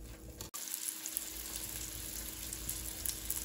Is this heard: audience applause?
no